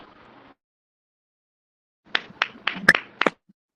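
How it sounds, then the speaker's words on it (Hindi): A short burst of about eight sharp hand claps at a Friday prayer gathering, sounding close and distinct after a moment of near silence, then stopping abruptly. "धन्यवाद देके एक ऊंची ताली देंगे"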